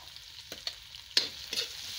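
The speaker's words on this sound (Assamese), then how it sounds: "এতিয়া মই ইয়াত বিলাহী কুটি লৈছিলোঁ বিলাহীখিনি দি দিছোঁ" Chopped tomatoes go into a pan of browned frying onions, giving a soft sizzle broken by a few sharp stirring scrapes and clacks over about two seconds, close and fairly quiet.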